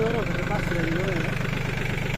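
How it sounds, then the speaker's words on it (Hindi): A 630 4x4 tractor runs at idle with a steady, low mid-range engine hum and a rhythmic chug throughout, under a voice heard talking over it, before the sound cuts off at the end. "कुछ इस तरह का ये ट्रैक्टर है और इसका जो काम है वो भी देख सकते हैं आप।"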